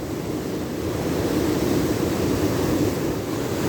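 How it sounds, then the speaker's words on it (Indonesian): Ocean waves wash ashore at night beside a beach fishing camp, a constant close rushing roar of surf with no breaks and no voices. "ombaknya"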